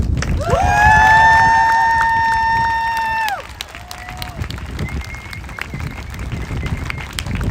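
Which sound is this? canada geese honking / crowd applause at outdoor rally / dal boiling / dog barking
crowd applause at outdoor rally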